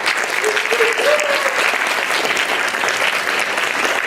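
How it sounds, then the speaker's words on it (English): A crowd at a Ballet Folklorico showcase gives a loud, sustained round of applause, dense continuous clapping with a brief voice or whoop rising above it early on. "So please give them a huge round of applause."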